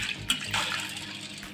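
Chana dal is washed in water, giving a brief, soft splashing and swishing close by, quiet and without voices.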